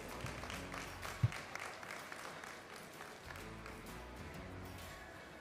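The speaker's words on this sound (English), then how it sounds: "Let's give them a round of applause." A crowd applauds the kids at a youth cattle show, soft and fairly distant clapping that swells briefly and then fades out.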